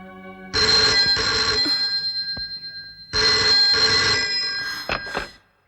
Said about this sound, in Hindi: कमला का फोन है।